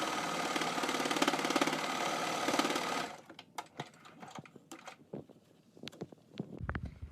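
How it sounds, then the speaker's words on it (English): A sewing machine stitches bias tape onto a fabric mask, running in a fast steady whir for about three seconds, then stopping, followed by soft handling clicks and rustles of fabric. "So I'm just going to sew on this bias tape."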